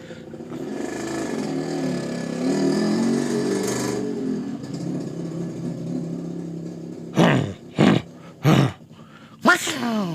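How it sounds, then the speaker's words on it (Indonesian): A motorcycle engine roars past nearby, swelling and then fading, followed by a few short bursts of talking. "ada motor lewat"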